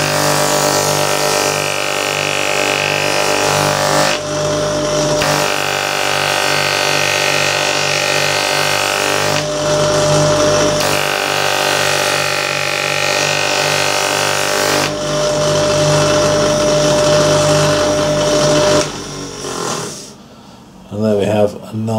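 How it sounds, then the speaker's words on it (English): A sanding drum grinds down the edge of a rolled leather bag handle, giving a loud, steady motor whir with a rough grinding texture that runs almost without a break and dips briefly near the end. "we've got the sanding drum, and turn it on, obviously a bit of noise, but we're going to grind this edge down so it's nice and flat"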